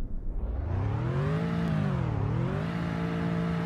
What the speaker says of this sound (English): if you rev it up, this truck sounds like a pickup truck